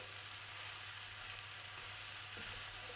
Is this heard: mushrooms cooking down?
yes